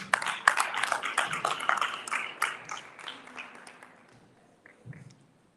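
An audience at a leadership conference claps in a dense burst of applause that thins out and fades away, with a few scattered claps and a brief voice near the end.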